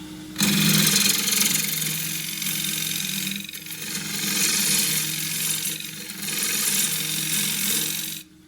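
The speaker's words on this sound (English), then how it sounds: "I'll use the same gouge." A wood lathe turns an ash bowl core while a sharp gouge cuts it, giving a steady broadband rasping hiss that runs almost unbroken with slight swells and dips, loud and close, and no talking.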